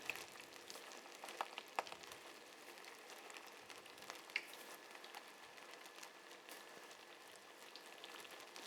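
Tofu pieces coated in potato starch fry in hot oil, giving a steady, fairly quiet crackle and sizzle with scattered pops throughout, no voices.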